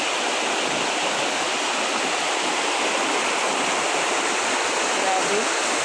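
River water rushes continuously through a mountain setting near a falls, a loud, even broadband roar with no breaks.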